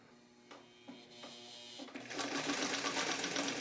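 A Singer 319W sewing machine starts with a few slow, separate needle thumps, then speeds into a steady, busy mechanical whir of stitching, close and moderately loud.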